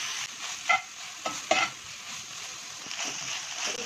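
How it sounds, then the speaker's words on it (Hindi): Bell peppers and other vegetables fry in a pan for tandoori pasta, giving a steady soft sizzle with a few clinks of a spoon stirring against the pan. "इसको हम इतना फ्राई करेंगे कि थोड़ी सी जो ये सब्जियां हैं ये फ्राई हो जाएं और नरम हो जाएं"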